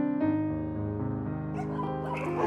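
Dogs at a tree-shaded rescue shelter yard make overlapping, sustained whining howls and yelps. Several tonal voices layer together, moderately close and continuous, with no talk.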